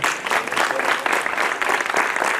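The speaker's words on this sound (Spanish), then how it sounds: "Yo creo que eso es para darle otra ovación" Sustained applause from an audience at a bullfighting event honoring matador Francisco Ruiz Miguel, dense steady clapping that fills the room at full strength throughout.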